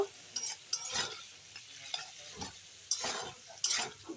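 Paneer sautéing with salt and turmeric in a pan, stirred now and then: a soft steady sizzle with scraping spatula strokes at irregular intervals, close and fairly quiet, no voices.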